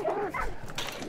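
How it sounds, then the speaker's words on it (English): Dogs in the video game Hunt: Showdown bark and whimper in a short, muffled burst, fairly faint and heard without talk. "It was just stressing me out for those dogs to be so loud."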